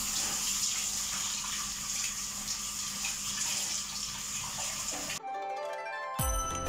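Tap water running steadily into a sink while garden-grown vegetables are washed, a loud constant gush that cuts off near the end, followed by a brief melodic ringtone-like chime.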